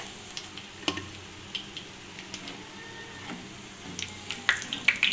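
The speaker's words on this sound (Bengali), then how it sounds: "তো একইভাবে আবারও আমি সব নাস্তাগুলো ভেজে নিচ্ছি" Rice flour snacks fry in hot oil over a low flame, a soft continuous sizzle with scattered light clinks and stirring taps, fairly faint and close.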